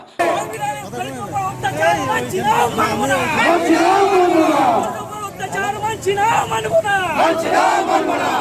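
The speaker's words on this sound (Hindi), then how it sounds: "उन्होंने योगी मुर्दाबाद के नारे लगाए" Protest crowd at a procession chanting slogans in loud rhythmic unison, many voices rising and falling together with shouted bursts, close and sustained for most of the stretch.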